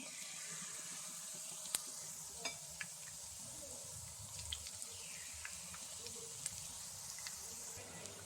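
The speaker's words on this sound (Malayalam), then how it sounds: "എല്ലാ പഴവും ഞാൻ മുക്കി എണ്ണയിലേക്ക് ഇട്ട് കൊടുത്തു." Battered banana fritters sizzle steadily in hot oil, a soft continuous frying hiss with scattered small pops and crackles throughout.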